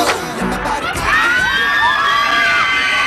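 A huge crowd of fans cheers for a singer in Singapore, loud shrill screams and whoops rising and sustained throughout, close and dense.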